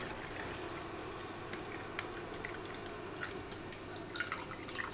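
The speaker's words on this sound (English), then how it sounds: "I'm gonna pour this out back into the container" Liquid trickles and drips faintly and steadily as it is poured back into a container while making homemade fatwood fire starter, a soft continuous splatter with a few louder drips near the end.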